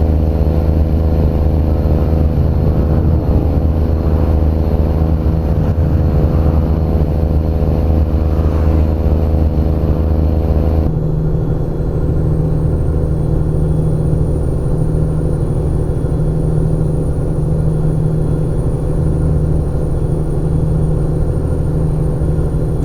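A truck engine in American Truck Simulator, running modded engine sounds, drones loud and steady throughout with a harmonic-rich idle-to-cruise hum, shifting character abruptly near the midpoint as the gear or load changes; no voices.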